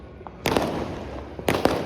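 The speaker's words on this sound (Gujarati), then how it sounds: "તો છે ને મિત્રો કેમ ફૂટે છે ફટાક્યા" Firecrackers set off for a Janmashtami celebration in Gondal burst in two loud, crackling volleys with short rattling pops, one after the other against a steady outdoor background.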